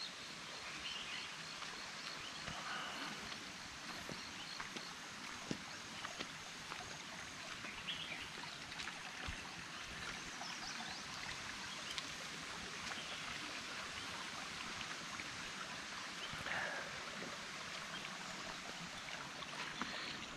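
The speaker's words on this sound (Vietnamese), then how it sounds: "các bạn nghe tiếng suối chảy không?" Quiet, steady rushing of a flowing stream near a forest lodge in the early morning, soft and continuous, with faint rustles and an occasional distant bird call.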